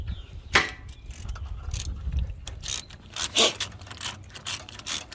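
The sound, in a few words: ratchet wrench clicking while working on a 1953 Ferguson TO-30 tractor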